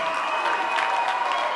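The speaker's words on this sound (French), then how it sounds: "vos applaudissements" A crowd at a seaside festival in La Bernerie-en-Retz claps steadily and densely, a broad even patter of applause filling the whole moment.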